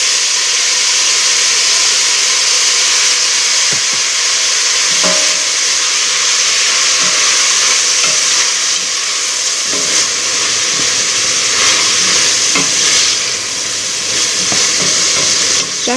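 Meat and onions fry loudly and steadily in a pan, a dense continuous sizzle with scattered scrapes and clicks as they are stirred throughout.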